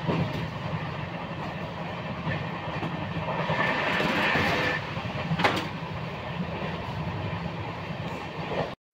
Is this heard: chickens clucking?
no